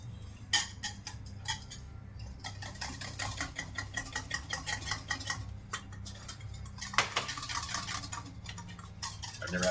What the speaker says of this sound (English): And let's whisk.